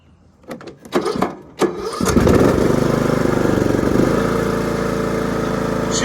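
A lawn mower engine cold-starting: a few scattered clunks and cranking bursts, then the engine catches and settles into a loud, steady, close running drone that continues to the end.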